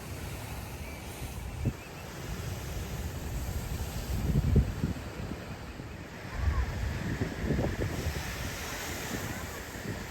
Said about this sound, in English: the waves were extra powerful